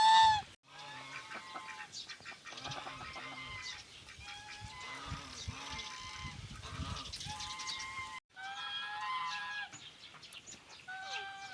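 Geese honk and call repeatedly in a lively, overlapping chorus, fairly close, with a brief pause before the honking resumes.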